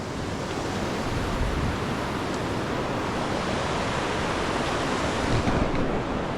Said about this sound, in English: It's the Whakapapa River.